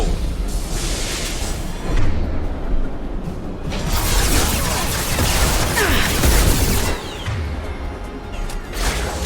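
Explosions and crashing impacts in the Mass Effect 2 Legendary Edition battle on Korlus, loud and dense, with heavy booms and debris rolling through a continuous wash of combat noise.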